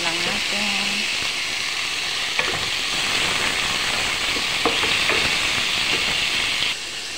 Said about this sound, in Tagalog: Halo-haluin lang natin.